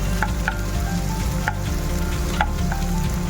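Onions and green chillies frying steadily in a pan, a continuous dense sizzle with a few light clinks of a spoon stirring, close and fairly loud, with no talking.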